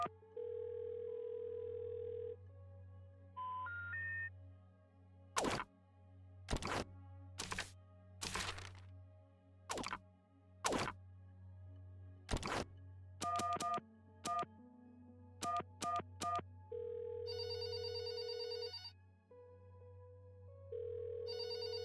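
A telephone dial tone hums steadily in the video game There Is No Game, interrupted by a series of sharp clicks and thunks, short tone beeps and warbling ring bursts, with no talking.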